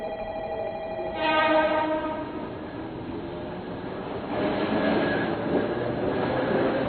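A train rumbles along steadily with a metallic squeal at first and a swelling roar of wheels on track, moderately loud and heard from nearby.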